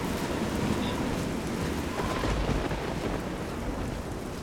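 Rainfall in the video game The Elder Scrolls IV: Oblivion, a steady broadband hiss with low rumbling that stays fairly loud and unbroken throughout, with no other clear sounds on top.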